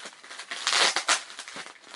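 Plastic parcel packaging being opened indoors, a short burst of close crinkling and crunching rustles, fairly quiet, with no talking.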